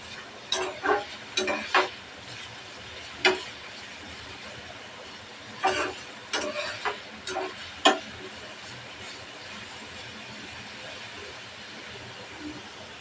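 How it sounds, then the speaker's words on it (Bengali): Chopped onions and green chillies fry in oil in a pan, a faint steady sizzle under scattered clicks and scrapes of stirring in quick bursts. "পেঁয়াজটা ভালোভাবে ভাজিয়ে নেবো"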